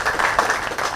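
Brief burst of applause from an audience at a public health officers' end-of-year party, a dense patter of clapping for one honoree, moderately loud and steady.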